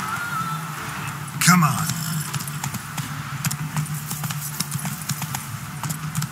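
Hooves of the horse Roach clip-clop steadily in The Witcher 3 video game, a rhythmic trot running beneath a voice, with a louder burst partway through.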